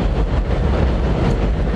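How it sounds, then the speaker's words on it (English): A train passes by on a New York City street, a steady, loud, broadband rumble with rolling low-end roar sustained throughout, with no voices over it. "the train passed by."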